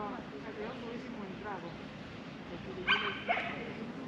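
A group of dogs roaming and playing in the public gardens of a small town, barking and yelping in short bursts, with two sharper yaps near the end, over a busy ambient background.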